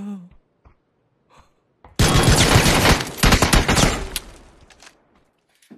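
Gunfire in a video game, loud and close: dense rapid bursts of shots run for about two seconds and then thin out into scattered pops. A few short breaths and sighs come just before the shooting.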